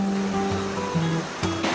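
Spring water pours down from above over rocks in a protected forest in Central Sulawesi, like a small waterfall, making a loud, steady, close rushing splash with no voices.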